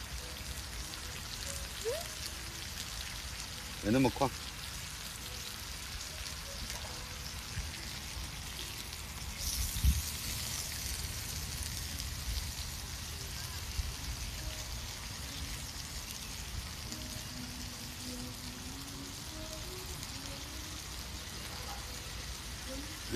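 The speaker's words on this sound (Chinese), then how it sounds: "下雨了" Rain falling outdoors during a camp cooking trip, a faint steady patter throughout with brief distant talk and a few knocks and clatters.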